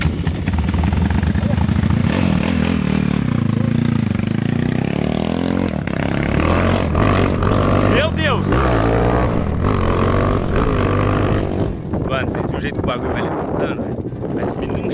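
Mini motorbikes rev and accelerate hard in a race, their loud buzzing engine drone rising and falling close by while people shout and talk over it.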